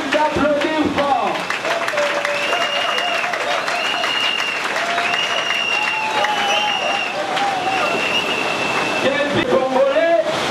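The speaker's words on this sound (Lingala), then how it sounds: "je vous demande d'applaudir fort" A crowd applauds at the inauguration of the ABT association, with dense, steady clapping that runs throughout while a voice carries over it.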